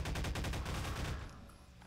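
Fast automatic gunfire from the game Half-Life 2 rattles in a dense burst for about a second, then cuts off and trails into quieter background noise, with no voices.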